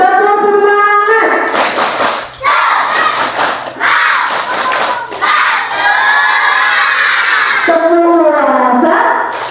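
Children at a school gathering about fasting chant a rhythmic clapping cheer together, loud and close, with sharp group claps between shouted lines and an adult voice leading at the start and end.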